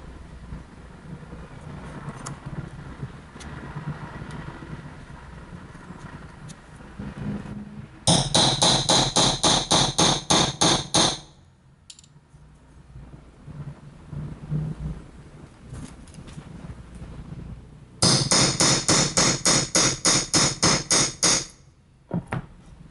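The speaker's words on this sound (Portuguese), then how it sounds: "Faz só um furinho para a broca ter um ponto onde começar" A hammer taps a small pilot mark so a drill bit can start, for a DIY pedalboard patch bay. Two separate bursts of quick, regular, sharp strikes ring out, loud and close, with quieter stretches between them.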